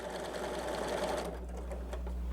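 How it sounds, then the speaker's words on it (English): A sewing machine runs steadily, stitching fabric pieces for a half square triangle quilt block, with a continuous close motor whir and rapid needle clatter that eases slightly toward the end. "So let's go ahead and sew that real quick on the inside of the line just to show you."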